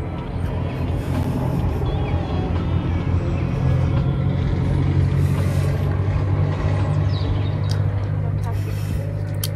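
Cars pass on a nearby road, a continuous loud low rumble of traffic lasting throughout with no break.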